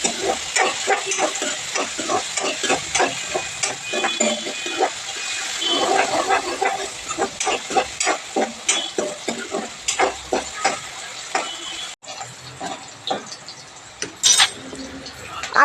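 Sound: sautéing chopped onion in oil

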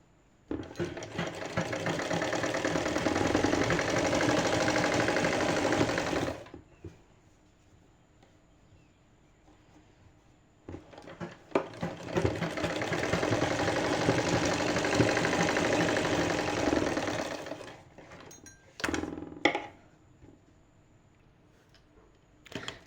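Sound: sewing machine stitching lace onto a sleeve

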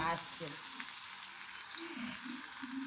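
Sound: vada frying in hot oil

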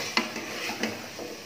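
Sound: stirring sliced potatoes with spices in a pan

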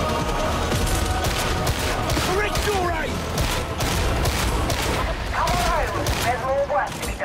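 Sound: gunfire in Warhammer 40K Darktide video game

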